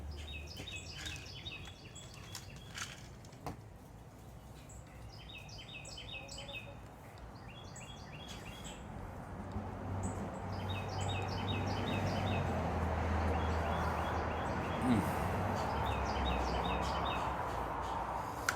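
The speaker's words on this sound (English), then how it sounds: "I don't know if you can hear my birds kind of chirping away out there." Birds chirp outdoors on a sunny day in North Central Florida, repeated bright tweeting phrases from several spots at moderate distance over a soft, rising background rush, with no voices.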